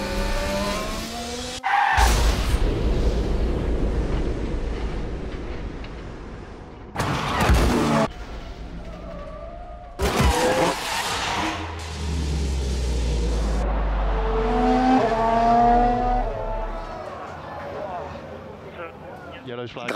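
Formula 1 Red Bull race cars battling wheel to wheel as Ricciardo tries to pass Verstappen: roaring engines, tyre skids and heavy rumbling bursts broken by abrupt cuts, with voices talking over the track noise.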